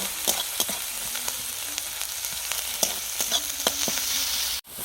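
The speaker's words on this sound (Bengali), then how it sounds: "দিয়ে মশলাটিকে খুব ভালোভাবে কষিয়ে নেব।" Masala of ginger, garlic, turmeric, chili powder and chopped tomato sizzles in hot oil in a pan while a spoon stirs it, the steady frying hiss broken by repeated scraping strokes, briefly cutting out near the end.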